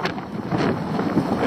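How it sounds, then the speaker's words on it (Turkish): Wind blusters across a microphone outdoors in the town square of Silifke, Turkey. It makes a steady, loud rumbling roar with gusty swells, and no voices are heard. "Hava rüzgarlı."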